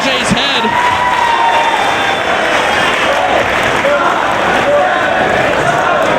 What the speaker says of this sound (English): Crowd counting along.